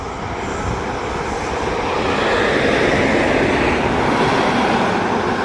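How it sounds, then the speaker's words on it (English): A steady, loud roar of a fast Deutsche Bahn locomotive-hauled train rushing past near the Hungary–Slovakia border builds slightly and holds, with no voices. "Let's just look at the trains passing. Fast locomotive."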